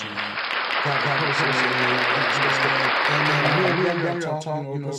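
Applause on a wrestling-themed podcast, a dense clapping burst that fills the moment, heard together with a sustained tonal sound underneath and briefly talking voices near the end.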